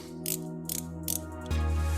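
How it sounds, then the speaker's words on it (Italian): A short ratcheting combination wrench is handled, giving three quick bursts of ratchet clicks at an even pace, followed by a low clunk with a sustained hum. "una poligonale come questa, se è molto corta va benissimo, o come questa che ha il cricchetto"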